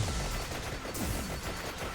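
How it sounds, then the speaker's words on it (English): Dense, continuous crackling blasts from the video game Vampire Survivors: many overlapping explosions at moderate volume, with no pauses between them. "You can hear all the explosions now."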